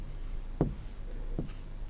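Pencil writing on paper during a second-grade Hindi lesson, heard as two short scratchy strokes about a second apart, close and faint, with no talk over them.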